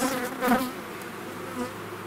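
Honeybees buzzing in an open hive with laying workers, a close, continuous droning hum that swells briefly as bees pass near, with no voices.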